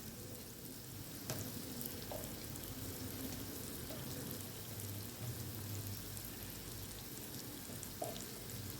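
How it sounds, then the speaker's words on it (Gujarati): Turmeric powder frying in hot oil for poha, a soft steady sizzle with faint crackles and occasional small pops, close and continuous with no talking. "તેલમાં સારી રીતે હળદર સતળાઈ જાય તો પૌવાનો કલર ખૂબ જ સરસ આવે"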